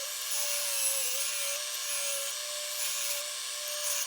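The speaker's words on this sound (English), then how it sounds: "I'm just going to shape a little chamfer right along this edge here, just to soften it up a bit" A router fitted with a 1/4 inch straight bit shapes a small chamfer along a wooden edge, giving a steady high-pitched whine with a constant tone and a rough cutting hiss, held at an even level throughout.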